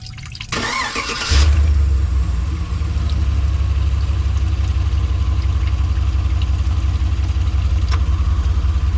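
An engine, opened at its drain screw for flushing, cranks and catches about a second in, then settles into a loud, steady, close-up idle that runs on without change.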